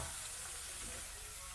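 Crab claws, dusted in corn flour, frying in hot oil give a steady, dense hiss and crackle throughout, close and even in level, with no talk over it.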